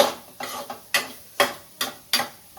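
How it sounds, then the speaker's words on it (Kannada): Masala with garam masala frying in a pan for pasta, heard as rhythmic scraping stirs, about six sharp strokes at even intervals, close and clear with a light sizzle between them, no talk. "ಈಗ ಎಲ್ಲ ಚೆನ್ನಾಗಿ ಫ್ರೈ ಆಗಿದೆ."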